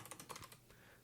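Quick run of key presses on a computer keyboard while a username is entered, about half a dozen soft clicks in the first half second and then a few fainter taps, very quiet and close.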